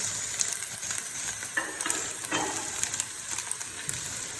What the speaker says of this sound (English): Let's add the cabbage now.